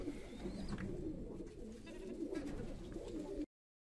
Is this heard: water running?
no